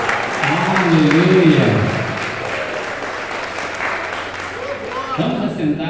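A church congregation applauding during a Sunday service, a sustained wash of clapping that fills the room, with a voice calling out over it early on and again near the end.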